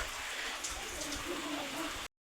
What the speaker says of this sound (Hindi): अब देखो बारिश कितनी भयंकर तेज़ मोटी वाली बारिश आ चुकी है